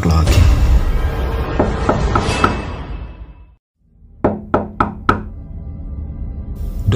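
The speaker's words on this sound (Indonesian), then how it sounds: "Ketukan kembali terdengar lebih keras." Knocking on a door, a horror story sound effect: a loose run of knocks, a moment of near silence, then four sharp, evenly spaced raps close at hand.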